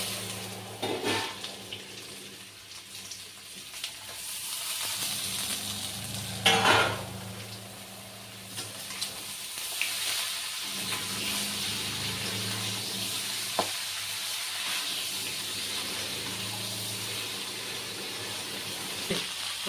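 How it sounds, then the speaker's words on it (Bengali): Vegetables for shukto frying in a pan, a steady close sizzle with occasional scraping stirs and louder bursts as the pan is worked, and no voices. "এগুলো ভালো করে ভাজা হয়ে গেছে, এবার সব সবজি একসঙ্গে দিয়ে দেবো।"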